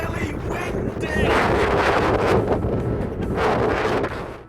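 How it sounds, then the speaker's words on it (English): Strong wind buffets the microphone on the North Wales coast at Llanddulas beside a very choppy sea, a loud, rough, continuous roar that swells in gusts throughout. "It's still really windy!"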